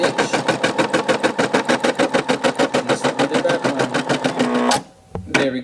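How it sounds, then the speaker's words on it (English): A Brother embroidery machine stitches a tack-down outline on felt for a plushie, a rapid even mechanical chatter of needle strokes repeating close and loud for several seconds, then stopping with a brief whir and clunk. "And now we're doing the good old tack down stitch."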